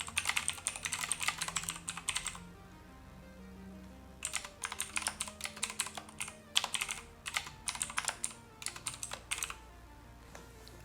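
Typing on a computer keyboard, quick close clusters of key clicks in two bursts separated by a short quiet pause, faint and alone over a low background hum.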